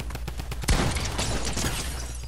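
Burst of automatic fire from a drum gun in the Fortnite video game, a sharp loud onset followed by a dense rattling spray of shots.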